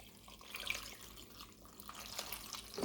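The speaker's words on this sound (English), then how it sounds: "And finally, a pint of water." A pint of water is poured into a slow cooker holding braised beef and chopped bacon, giving a continuous close splashing trickle for a few seconds with no voices.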